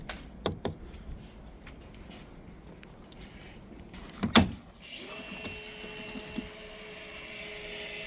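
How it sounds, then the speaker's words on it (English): A plastic taillight access cover on a 2023 Toyota GR86 pops free of its two clips with one sharp, close snap midway through, after a few light clicks and handling noises. "It just pops out pretty easy, 2 clips."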